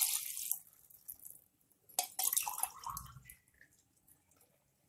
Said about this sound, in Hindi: इसी ग्लास से नाप के हम इसमें पानी डालेंगे